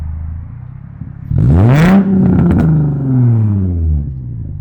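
A Nissan G35 drift car engine with a new exhaust revs up hard with a throaty, rising exhaust roar, then holds and settles into a loud, rumbling idle, close by.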